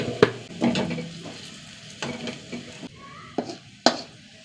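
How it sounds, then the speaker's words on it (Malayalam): Onions frying with curry leaves as chili powder is added, a soft continuous sizzle broken by several sharp scraping and stirring knocks of a spoon against the pan, close by with no speech. "ഉള്ളി നന്നായി മൂത്ത് വരട്ടെ. കുറച്ച് മുളക് പൊടി ഇട്ടാ"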